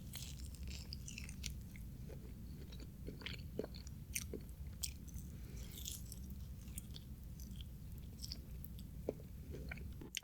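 Someone chews spicy Wingstop atomic chicken wings up close, with soft wet mastication and scattered small crunchy bites over a low steady background, and no one talking.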